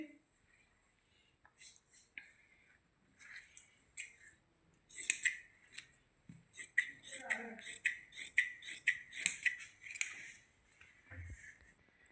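Scissors snip through fabric while cutting an embroidered salwar, a series of quiet, crisp clicks and slicing sounds in irregular bursts, some faster runs of cuts, close by in an otherwise quiet room.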